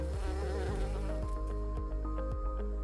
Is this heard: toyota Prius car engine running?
no